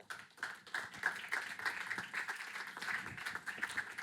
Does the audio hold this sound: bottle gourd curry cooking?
no